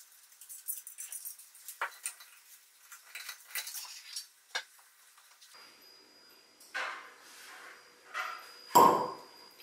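Cork pulled from a bottle of Moss Wood Cabernet wine, with light scraping and handling clicks building to one sharp, close pop near the end; no speech.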